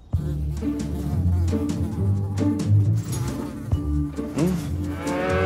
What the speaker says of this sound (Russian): Меня уже облепили мухи.